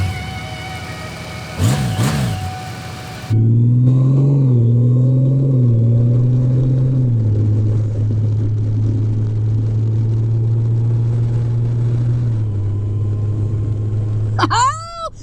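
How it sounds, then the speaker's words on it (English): A Honda Goldwing motorcycle on a spring ride through Ohio, its engine droning steadily with rises and falls as it changes speed, preceded by brief buzzing and ending with a short chirping noise. "I'm going for a motorcycle ride on this absolutely beautiful spring Ohio day"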